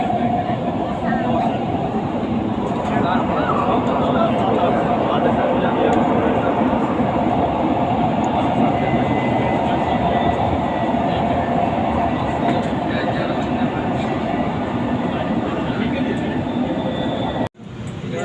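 Continuous loud rumble of a metro train ride in Dubai, steady rolling and track noise throughout with a brief dropout near the end, and a voice speaking over it.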